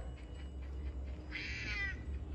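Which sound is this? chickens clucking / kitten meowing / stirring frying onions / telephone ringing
kitten meowing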